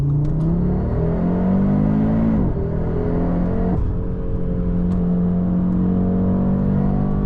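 Audi RS3 with its five-cylinder engine pulling hard under acceleration, a loud, close, steady drone rising in pitch through two gear changes with short dips between them.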